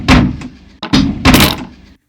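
A door is struck three times in a quick, loud series, close and dry, with no voice present.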